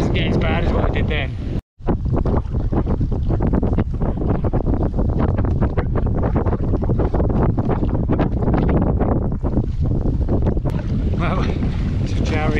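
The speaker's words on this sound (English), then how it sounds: "it's quite windy, hopefully you can hear me" Strong wind blowing across an open Scottish loch during a canoe trip, buffeting the microphone with loud continuous roaring gusts while a person talks underneath.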